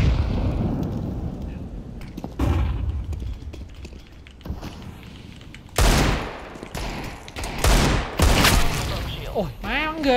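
Gunfire in the Counter-Strike map de_train: loud bursts of automatic rifle fire and single sharp shots come in irregular volleys, with quieter gaps between them and people talking over the action.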